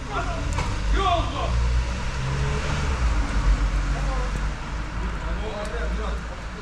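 A Ford Courier engine runs hard at full throttle with the brake held, a loud steady low drone with some fluctuation, while someone talks over it.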